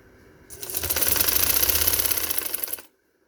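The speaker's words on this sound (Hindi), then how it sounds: "आपके सामने लगाती हूँ ये सारी सिलाई" A sewing machine stitches a salwar in one quick burst of rapid, even mechanical clatter lasting about two seconds, close and loud, starting and stopping abruptly amid near silence.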